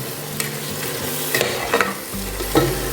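Tomato masala with rock salt being sautéed for turkey berry biryani, a spoon stirring and scraping the pan in bursts over a steady close sizzle.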